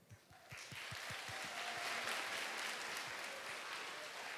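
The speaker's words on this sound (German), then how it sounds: "einen abschließenden großen Applaus für diesen großen, großen Cosplayer" A crowd at a cosplay contest at a convention breaks into loud, dense applause that swells quickly and holds steady, with a few cheers mixed in.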